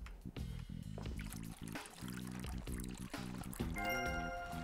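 Water is poured for the dogs and cats in the Animal Shelter video game, a soft liquid pouring sound under looping, tonal game music at low volume.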